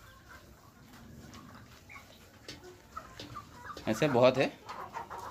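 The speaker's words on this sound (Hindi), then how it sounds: "यहाँ पे चार कड़कनाथ मुर्गियाँ हैं और एक ये रहा पांचवा" Kadaknath hens cluck softly around a small farm pen, with quiet scattered calls throughout and someone speaking briefly near the end.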